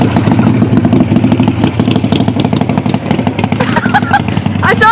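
A motorcycle engine runs nearby outside a house museum, a loud, steady, rapid chugging throb that fills the whole stretch without easing off.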